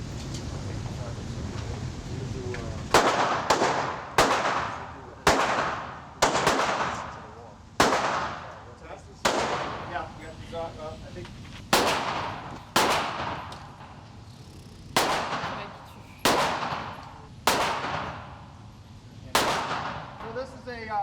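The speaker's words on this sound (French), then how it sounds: "c'est un revolver Magnum 44, avec de grosses munitions" A .44 Magnum revolver firing heavy rounds at an indoor shooting range: about a dozen loud, sharp booming shots at uneven intervals, each with a short ringing tail, after a few seconds of murmured voices and room noise.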